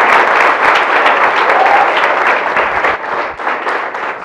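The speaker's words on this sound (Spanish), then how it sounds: "un aplauso para Ecuador, que necesitamos fuerza" An audience at a leadership talk breaks into steady, loud applause, a dense wash of many hands clapping with faint cheering, sustained for several seconds.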